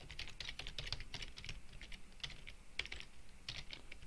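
Quick, irregular keystrokes clatter on a computer keyboard, close and fairly quiet, with a steady run of clicks and small pauses between bursts.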